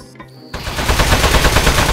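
Rapid automatic gunfire in a Portal 2 spin-off video game, bursting in loud and dense after a quiet half-second and continuing as a sustained clattering barrage.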